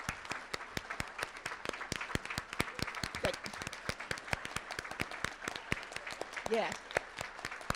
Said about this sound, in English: Please give Bethany Hall Long a round of applause for everything she has